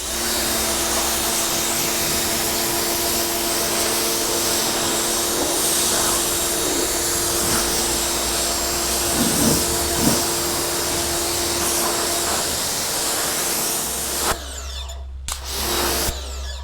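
A Westforce electric pressure washer runs with a steady, loud mechanical whine and hiss, then cuts out abruptly near the end before briefly returning.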